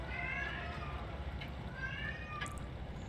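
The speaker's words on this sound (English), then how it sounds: "So I don't know if you can hear the cat is having an absolute gee upstairs." A cat meows upstairs indoors, a few drawn-out cries rising over a steady background hiss, moderately loud but somewhat distant.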